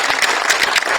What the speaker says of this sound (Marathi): एकदा जोरदार टाळ्या दिल्या या गोंधळाला